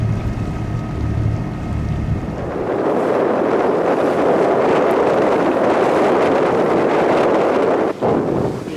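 A sailboat sailing close-hauled off the Queensland coast, roughly 12 knots of northeast wind on the bow: steady, loud broadband wind rush and water noise fill the clip after an engine-like hum fades early, with no talk.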